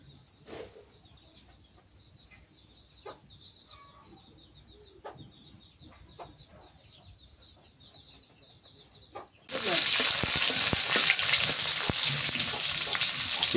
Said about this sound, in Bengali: শাক ভাজা করবো, তেল দিয়ে দিই